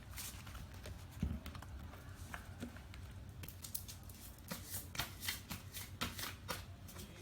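Tarot cards shuffled close by, with bursts of crisp riffling and flapping patter in uneven clusters and quiet pauses between them, no talk.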